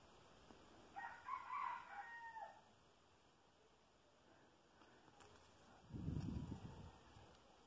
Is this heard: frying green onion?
no